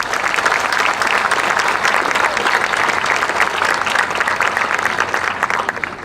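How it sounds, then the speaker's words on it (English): A crowd at a West Lampeter fair queen pageant gives the contestants a round of applause, with loud, continuous clapping from many people that stays steady and full before thinning slightly at the close. "Please give our contestants one more round of applause."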